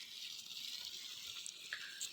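Water gushing steadily from a village tubewell motor pump in rural Rajasthan, a constant hissing rush with no pauses, close by and fairly quiet.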